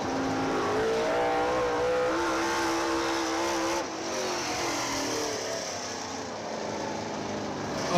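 Late model race cars run hot laps around a dirt speedway, engines droning and revving loudly and steadily, rising and falling in pitch as cars pass, with no talk.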